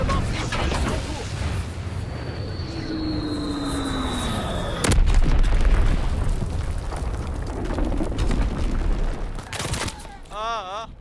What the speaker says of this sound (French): Bombardement Fritz X en cours.